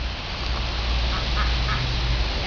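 A duck quacks in a short series of calls over steady outdoor background noise, with no talking.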